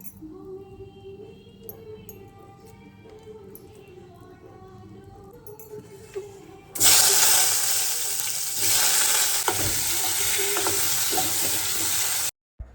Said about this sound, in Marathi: वांग्यामध्ये भरायचं आणि वांगे आपल्याला मस्त तेलामध्ये सोडायचं